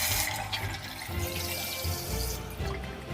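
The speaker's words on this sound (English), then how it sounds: "if it's number one, you can use the Eco Flush" A Casta Diva CD-K030PRO dual-flush toilet runs its eco flush, a short rush of water swirling and gurgling at close range, loud and continuous without speech.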